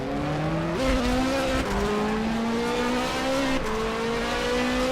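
A race car in a sim-racing DTM series game at Hockenheimring revs hard, its engine pitch stepping up through gear changes with tire noise as the rear end slides out, loud and continuous throughout.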